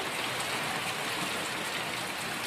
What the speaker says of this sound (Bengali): কেমন বৃষ্টি হচ্ছে দেখো,